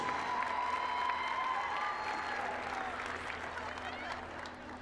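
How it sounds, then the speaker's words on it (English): Crowd applause for the Rutgers Scarlet Knights seniors at a Rutgers at UNC game, a steady wash of clapping and cheering from a large audience that holds at the same level and then eases slightly, with a public-address voice faintly over it. "How about a big round of applause for the Rutgers Scarlet Knights seniors?"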